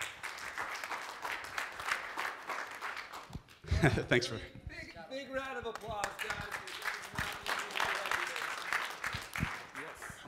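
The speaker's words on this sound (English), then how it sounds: "Big round of applause, guys." An audience applauds after a startup pitch at a pitch competition. Dense clapping fills the opening seconds, a voice speaks briefly over a lull, and then the clapping swells again and continues to the end.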